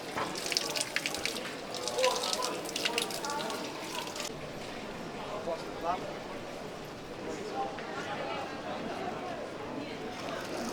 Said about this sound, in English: year-round they would have water coming from this fountain all the way back to 1435